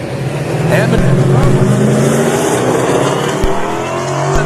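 A single-turbo small block Chevy Camaro drag car launches with its tires spinning, a loud, rising engine roar with sharp transients as an announcer talks over it.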